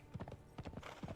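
Horse hooves clip-clop in quick, steady rhythm in an online video game, with a few brief sounds of horse activity mixed in, heard close and moderately loud.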